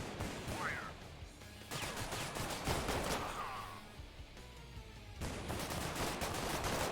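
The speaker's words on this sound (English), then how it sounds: "they're shooting our civilians" Gunfire in The Last Haven video game: repeated bursts of shots crack over a busy background of game noise, with rapid volleys coming in several clusters throughout.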